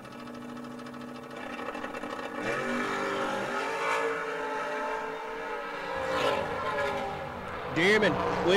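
A drag racing roadster launches down the strip at a memorial race, its engine a loud, steady droning roar whose pitch sweeps upward near the end.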